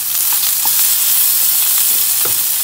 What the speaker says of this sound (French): Les barres de lard vont continuer à cuire